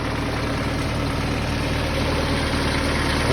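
An old Toyota 4K engine idles steadily after its carburetor has been refitted, a loud, close, even rumble with a low throbbing drone and no speech.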